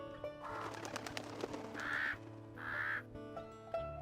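Several harsh crow-like caws from a video game ring out in short bursts over a faint background hum, moderately distant, with no speech.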